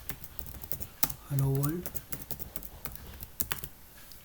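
Rapid clicking on a computer keyboard while HTML code is entered, the light keystrokes running beneath a person talking.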